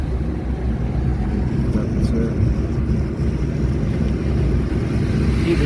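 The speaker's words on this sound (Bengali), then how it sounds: "গাড়িটা জোরে চলছে।" A car drives fast along highway NH-12 between Baharampur and Krishnanagar, a steady broadband roar of engine, tyres and wind noise from inside the vehicle, continuous and loud throughout.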